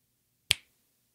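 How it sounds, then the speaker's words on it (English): A single crisp finger snap, sharp and close, standing alone in near silence with a quick decay. "Finger snap."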